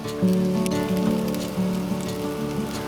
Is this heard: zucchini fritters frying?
yes